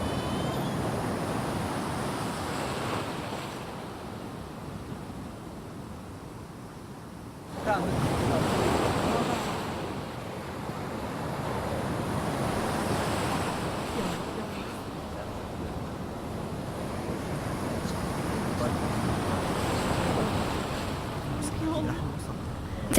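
Dark sea at night with surf and waves washing continuously, steady wind noise over the water, one louder surge of waves partway through.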